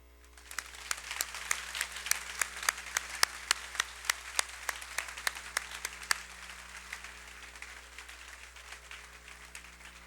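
Sustained applause from a crowd at a high school graduation ceremony, a steady wash of clapping with a few sharper individual claps standing out, and no voices.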